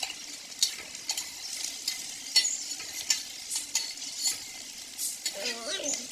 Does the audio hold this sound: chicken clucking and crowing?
no